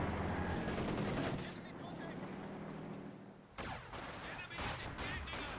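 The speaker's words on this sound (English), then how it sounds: "gunning them down up close with some accurate fire" Rapid bursts of machine-gun and rifle fire from the World War II strategy game Company of Heroes 2, in a 1v1 match between German OKW and Soviet forces, with a voice talking over the shooting throughout.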